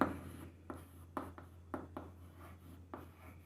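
Marker or chalk writing on a board during a physics lesson on electric fields, heard as a series of short scratchy strokes in an irregular rhythm, close and fairly quiet over a steady low hum, with no talking.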